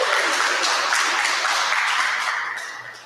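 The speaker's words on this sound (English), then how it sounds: "Slight spattering of applause from around the room." A scattered round of applause from around the room at a 100 People Who Care community gathering, moderate and steady clapping for a few seconds that thins out toward the end.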